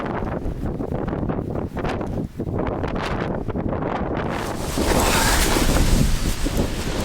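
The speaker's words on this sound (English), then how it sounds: "that was a windy night, as you can hear" Strong night wind on Cringle Moor gusting and roaring continuously outdoors, buffeting the microphone, growing louder and rougher toward the end.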